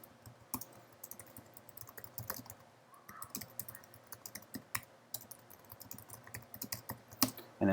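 Steady typing on a computer keyboard while jQuery code is entered, with fast irregular key clicks, some louder taps and short pauses, close and fairly quiet with no talking.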